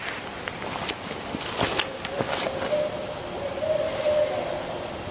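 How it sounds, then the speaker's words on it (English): A large owl hooting outdoors on the Oregon coast, several low hoots spread over a few seconds against steady ambient background noise, with faint footsteps. "That's a big ass owl."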